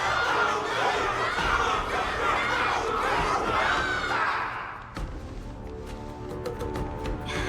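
Spectators in a game arena roar for Luka at a faceoff match final in Honkai Star Rail, a loud sustained wave of shouting and cheering that drops off sharply midway, leaving thuds and a quieter murmuring crowd.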